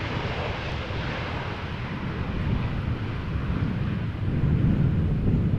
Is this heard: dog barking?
no